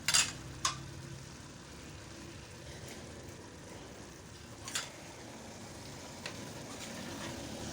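Onion and capsicum frying in a pan for beef jalfrezi: a steady, fairly faint sizzle with a few sharp clinks of a utensil against the pan near the start and middle.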